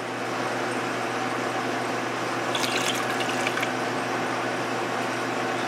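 Brownish water and brine flushing out of an opened valve on a brine shrimp decapsulation setup, a steady loud rushing water stream close by, with a brief brighter splashing spell partway through, no talk.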